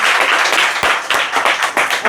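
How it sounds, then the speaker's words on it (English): An audience applauds the Amplitude team at a product management meetup, a dense, loud clapping wash punctuated by a few sharper thumps, with faint voices mixed in. "Can we get a big round of applause for the Amplitude team?"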